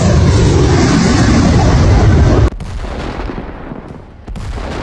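HIMARS rocket artillery firing, a loud sustained roaring blast that cuts off abruptly, followed by a fainter echoing rumble and a second burst near the end.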